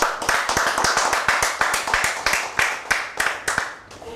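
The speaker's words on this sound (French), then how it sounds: "On applaudit pour elle," An audience at a make-up competition semi-final claps in a steady, rhythmic beat, crisp individual claps landing about three per second, fading slightly toward the end.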